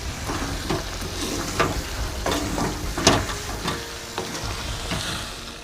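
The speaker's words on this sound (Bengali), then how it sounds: "গরম মশলাটাকে ভালো করে মাংসের সঙ্গে মিশিয়ে নেব" Garam masala being stirred into Bengali chicken kosha in a pan, a spoon scraping and turning the thick meat through a steady close sizzle, with short irregular stirring strokes over about six seconds.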